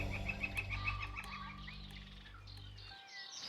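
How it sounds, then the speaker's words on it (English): Wild birds call in open sagebrush country at Malheur National Wildlife Refuge in Oregon, a few thin repeated chirps and whistles at a distance over a low steady rumble, quiet and without voices. "the birds like I'd never heard before. And I think we're starting to hear them picking up again"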